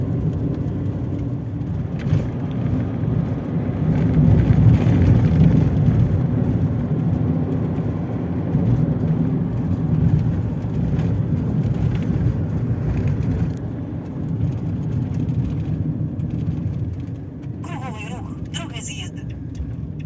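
A car drives along the hilly outskirts of Chernivtsi, its steady engine and road rumble running continuously throughout, with voices talking inside the vehicle over the drone.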